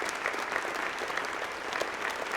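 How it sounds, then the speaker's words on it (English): A round of applause rises from the audience at an education awards evening, steady crowd clapping heard fairly faintly and at a distance, continuing evenly with no talking. "Can we give them a round of applause?"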